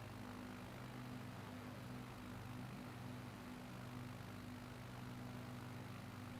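Steady propeller aircraft engine drone from a flight simulator, holding a constant hum with tonal harmonics while the plane comes in to land at an airport runway in Japan, continuous and moderately loud with no talk.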